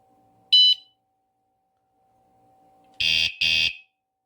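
An ONVIAN bike motion-sensor alarm gives a short harsh buzz, pauses, then blares two more loud bursts in quick succession, close by in a quiet space.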